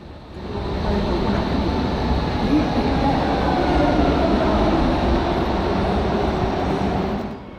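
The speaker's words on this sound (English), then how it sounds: "There's always a constant flow of S-Bahn trains going in and out of the city" S-Bahn trains roll through a Berlin station at close range, a loud continuous rumble and clatter that swells in and fades out over several seconds.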